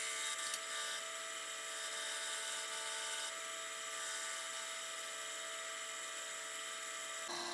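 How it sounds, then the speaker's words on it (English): A carbide easy rougher cutting a wooden top hat on a spinning lathe: a steady, bright, high-pitched whine with a constant hum, close and unbroken for several seconds with no talking. "I'm going to use my carbide easy rougher here, and I'm going to start to shape the top hat"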